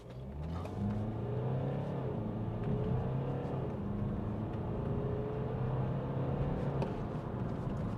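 A 2015 BMW 218d M Sport diesel coupe in sport mode pulls hard from a standstill, its engine droning loudly and rising in pitch through gear changes, heard from inside the cabin with no talking.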